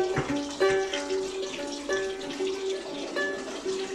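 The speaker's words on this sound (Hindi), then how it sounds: "और ठंडा पानी गुजार लेते हैं इसके ऊपर से।" Cold tap water pours over boiled spinach in a strainer in a home kitchen, a moderate steady splashing stream with clinks of the strainer, heard up close without talk.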